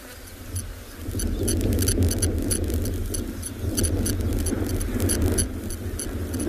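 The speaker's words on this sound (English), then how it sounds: "the amount of flies buzzing around there is insane" Swarm of flies buzzing around a giraffe carcass at sunset on a safari, a dense continuous drone of many insects, close and steady, with scattered ticks and no voices.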